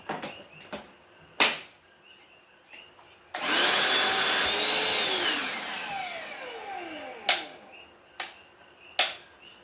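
A Ryobi cordless vacuum cleaner starts with a sudden loud whine, runs for about three seconds, then spins down with a falling tone. Sharp clicks and snaps are heard before and after it runs.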